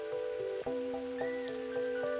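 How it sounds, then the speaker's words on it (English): Steady rain falling at night in the video game Outpath, a continuous soft patter with a few brighter droplet taps and a faint sustained tone beneath, no voices. "this is certainly the first time we'll be ending on a rainy night"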